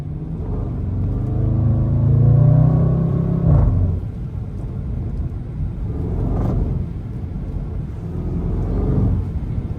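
Range Rover SVR engine revving hard in sport mode while driving on snow, a loud close rumble that swells, drops sharply, then surges again in waves.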